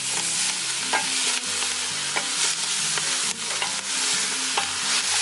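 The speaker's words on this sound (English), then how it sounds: "So now I'm going to add all the beans. Give it a little mix." Beans are stirred in a frying pan over the heat, with a steady sizzle of frying beneath repeated scraping and clattering stir strokes, close and continuous, with no talking.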